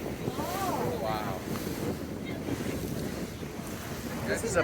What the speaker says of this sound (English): This is a pedal boat. New York City cycle boats.